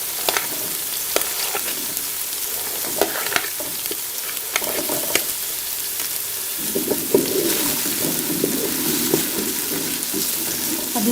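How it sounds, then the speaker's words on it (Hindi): Carrots frying in a pan for vegetable macaroni, with a steady sizzle and repeated scraping stir strokes, growing louder and denser toward the end, close and alone without talk. "अब इसी तरीके से 2 मिनट में गाजर को भी भूनूंगी"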